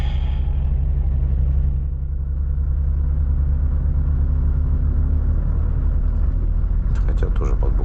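A Volvo FH 540 truck's engine rumbles deep and steady while it creeps forward on light throttle with some wheelspin, with a voice talking over the continuous low drone.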